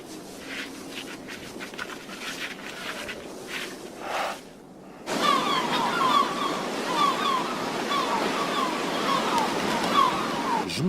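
Sea waves wash in near a beach in wild Iberia during summer, a steady rushing surf that drops briefly and then returns louder and fuller. Nobody speaks.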